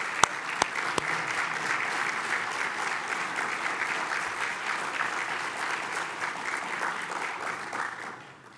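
Steady applause from parents and guests at a scholarship awards banquet, a full room clapping evenly for about eight seconds with a few sharp claps near the start, then tapering off at the end.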